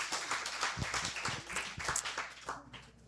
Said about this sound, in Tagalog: Pwede ba isa mo na malakas sa palakpak para kay Lord dyan?